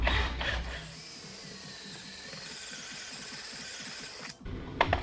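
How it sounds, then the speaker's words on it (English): A drill whirs steadily for a few seconds while boring a hole into thin Audi body sheet metal, then spins down and stops. "then drill this hole"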